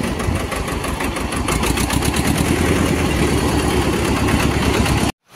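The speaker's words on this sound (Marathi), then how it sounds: "पहिल्या ट्रॅक्टरला डिझेल पाजले. डिझेल पाजून झाल्या अशी स्टार्टर हाणला निघालो." A diesel tractor engine runs at a steady idle with a dense, rapid chugging rumble, loud and close, before cutting out abruptly near the end.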